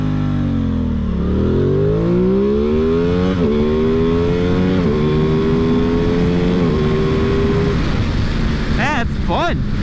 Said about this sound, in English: how often is it that you can rip through 4 gears on a motorcycle on the street?